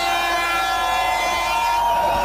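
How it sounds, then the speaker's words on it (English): A crowd gathered at the falling Berlin Wall during night-time demolition applauds and cheers, a steady dense wash of clapping and voices that stays loud and unbroken throughout. "Applause from the wrong side for some people."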